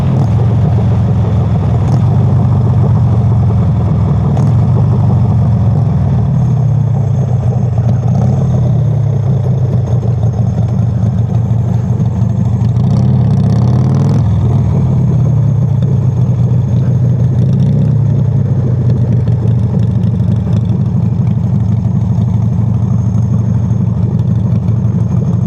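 A motorcycle engine runs steadily at idle for a long stretch, loud and close, with a constant low throbbing rumble and slight shifts in pitch, with no voices.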